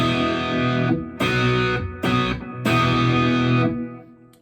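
An electric guitar played hard through an amp turned all the way up, with Greenback speakers, gives loud, thick, driven chords in several strummed bursts with short gaps between them before ringing out, with no voices.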